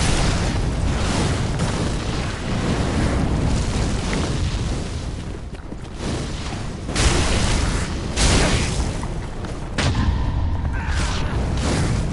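Enemies launching a long-range fire spit attack in Dark Souls III, a dense roaring, booming rush of flame and impacts that stays loud and continuous, with several stronger surges.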